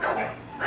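A single dog bark, short and moderately close, sounding alone without any talk.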